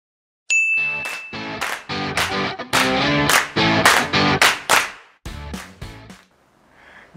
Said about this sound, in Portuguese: roda essa vinheta